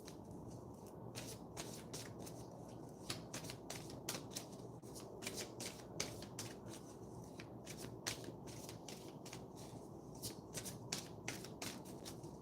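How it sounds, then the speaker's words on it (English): Tarot cards are shuffled repeatedly up close, a dense run of crisp riffling flicks and taps that continues without speech. "Let me shuffle."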